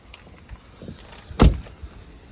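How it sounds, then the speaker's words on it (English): A car door on a vehicle at a police auction swings shut once with a solid, heavy thump midway through, set against quiet outdoor background noise. "Door closing sounds good."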